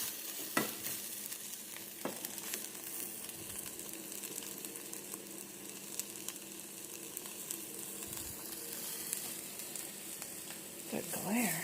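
Grilled cheese philly filling frying in a pan, a steady sizzle with occasional stirring clatter throughout, fairly quiet and without talk.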